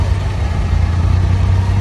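Engine of an abra water taxi on a Dubai Creek ride, a loud, steady, low-pitched diesel drone that stays close and even the whole time.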